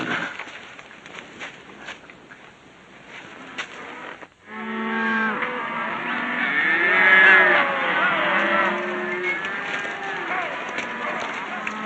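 Cattle low repeatedly in an outdoor ranch herd scene, several long drawn-out moos overlapping, moderately loud after a quieter stretch with a voice and background noise.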